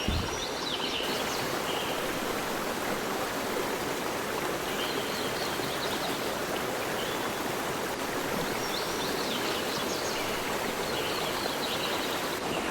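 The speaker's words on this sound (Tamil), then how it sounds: "இந்த காட்டில் ஒரு அருவி இருக்குது" Steady rushing water from a forest waterfall and stream in the hills of Kanyakumari district fills the scene continuously, with faint bird chirps now and then above the broadband roar.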